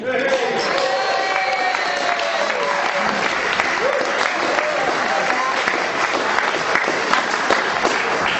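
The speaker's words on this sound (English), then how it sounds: "let's just give a big round of applause for Tug Dumley" Sustained applause from a large crowd at a poetry performance, steady and dense throughout, with scattered cheers and voices mixed in.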